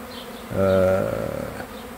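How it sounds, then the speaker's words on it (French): Several hundred Buckfast honey bees flying around a hive outdoors, a close buzzing swell rising then fading over a soft background hum. "j'ai encore plusieurs centaines d'abeilles qui volent, un peu partout"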